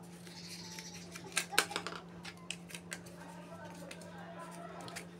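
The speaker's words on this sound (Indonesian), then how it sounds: "Setelah itu kita gunting ya." Scissors snip through a recycled plastic drinking cup in a close, quiet indoor setting, giving a few sharp clicks and crisp cuts clustered near the start, then sparser faint snips over a steady low hum.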